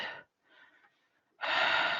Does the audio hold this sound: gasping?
yes